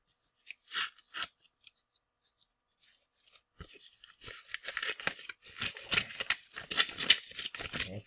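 An envelope from the mail is torn and opened up close, with crisp paper rips and crinkles, sparse at first and then a dense run of tearing and rustling.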